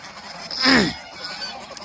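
A single white domestic goose on a farm gives one short, loud honking call close by, with quieter farmyard ambience before and after.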